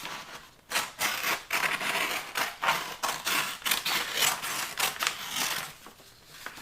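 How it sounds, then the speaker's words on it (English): Scissors snipping a strip of holiday gift wrap, a rapid series of crisp, close cutting strokes and rustling paper repeating steadily. "we'll take scissors. And we're just going to cut a strip."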